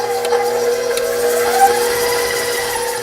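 An electric mixer beating butter at medium-high speed for biscotti dough gives a steady, close motor whine with a constant hum and slight rattling, unbroken throughout with no talking.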